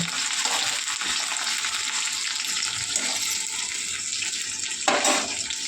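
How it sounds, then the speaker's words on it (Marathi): Onions sizzle in hot oil in a home kitchen pan, a steady close-up hiss with occasional scraping sounds as they are stirred. "5 मिनिट तळू द्यायचं ना कांद्याला."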